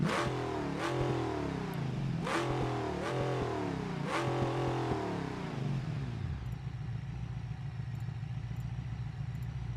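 Wagon in BeamNG.Drive, blown engine with tube headers and a derby exhaust that cuts off the mufflers, revving hard: three loud rising-and-falling revs, then a rough, steady idle.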